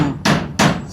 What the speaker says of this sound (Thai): ตอกตะปูเลย